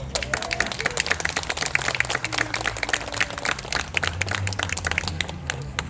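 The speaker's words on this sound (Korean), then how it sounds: "큰 박수를 하고" A congregation at a prayer meeting claps, dense overlapping hand claps with sharp individual cracks running throughout over a low background hum.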